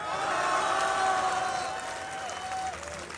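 A large tournament crowd cheers and whoops at a StarCraft finals match, a broad roar of many voices rising and then easing slightly, heard at a distance under a faint tonal whistle.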